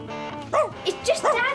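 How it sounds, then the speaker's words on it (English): A small dog gives a few sharp yips and barks in quick succession over a low steady hum, fairly close and moderately loud. "Stop barking, or Mrs. Hobbs will get upset with you."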